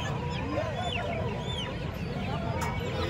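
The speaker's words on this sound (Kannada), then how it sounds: "ಹಾಗೆ ಅಲ್ಲಿ ಒಂದೆರಡು ಹುಂಜ ಇದಾವೆ" Fowl calling at a village chicken market, the breed-chicken fair at Kundarapalli where a couple of roosters are kept, with several overlapping honking and clucking cries over a constant crowd murmur.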